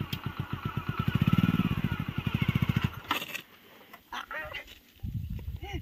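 A motorcycle engine idles unevenly as a beginner learns to ride, with a steady pulsing putter that cuts out partway through. Voices then talk nearby.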